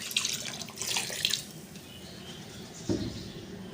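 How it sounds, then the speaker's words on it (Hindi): Water is poured into a pot of beef paya, a beef trotters stew, in a kitchen. It makes a steady splashing stream with bursts at the start and a short splash near the end. "अब मैं इसमें 2 गिलास पानी के शामिल कर दूंगी।"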